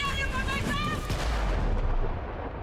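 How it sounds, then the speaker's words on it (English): Flashbang grenades bursting in a speedrun video game, a loud dense roar of blasts with a ringing tonal whine early on that fades into a muffled, steady rumble. "The flashbangs"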